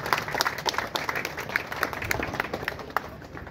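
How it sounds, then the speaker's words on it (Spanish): A crowd at a hermitage procession for Santa Isabel in Tultepec, Mexico, claps heartily for the people who prepared the shrine, a loud, busy burst of many hands with scattered sharper claps throughout. "Un fuerte aplauso a los que han preparado esta ermita."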